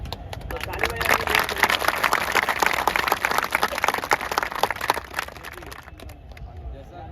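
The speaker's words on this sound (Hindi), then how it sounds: "तो ताली बजाइए।" An audience claps loudly and densely at a BPSC exam-preparation talk, sustaining a full applause for about five seconds before it thins out and fades, with some murmuring underneath.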